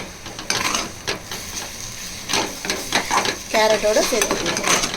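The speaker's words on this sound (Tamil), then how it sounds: "கேரட்டோடு சேர்த்து நல்லா ஃப்ரை பண்ணிக்கணும்." Egg and grated carrot stir-fry for poriyal scraped around a hot pan, with steady sizzling and repeated spatula strokes and clinks against the metal, close and fairly loud throughout.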